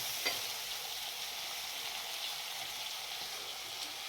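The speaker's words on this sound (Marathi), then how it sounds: "हलवायचं" Food frying in a pan on a home stove, a steady close hiss and sizzle running through the whole stretch, with a faint scrape of stirring early on and no voices.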